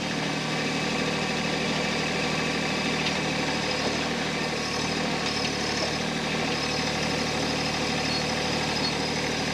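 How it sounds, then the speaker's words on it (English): Small tractor engine idling steadily close by, a continuous low mechanical rumble with slight vibration and no talk over it. "Little tractor got some strong hydraulics."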